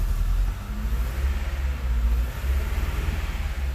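A car engine with its check engine light on idles and revs roughly, a loud, close, low rumble that pulses and wavers unevenly as it runs badly, with no talking.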